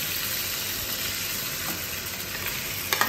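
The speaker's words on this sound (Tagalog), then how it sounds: "Prituhin mo na ito yung egg." An egg frying in a pan with no oil gives a steady, close, even sizzle with a couple of small ticks near the end, and nobody speaks.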